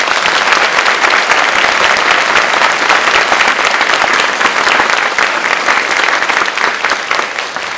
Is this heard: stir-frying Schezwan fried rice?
no